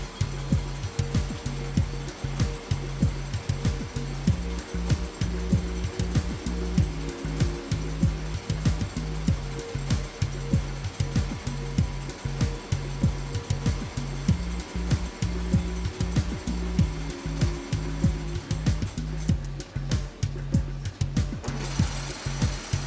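A textile fibre processing machine with rows of pins, its delivery adapted to wind onto a bobbin, runs steadily with a fast repetitive mechanical clatter and hum, loud and continuous throughout.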